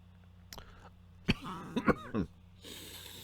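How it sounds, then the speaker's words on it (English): A few sharp coughs at close range, spaced irregularly with a throaty clearing between them, followed by a steady hiss of background noise. "So pardon the intermittent coughing."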